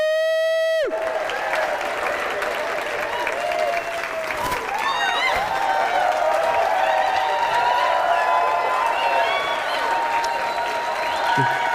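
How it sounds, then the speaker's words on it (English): An audience at a conference event claps and cheers continuously, a dense, steady roar of hands with whoops mixed in, following a brief musical tone at the start. "Give yourself a big clap."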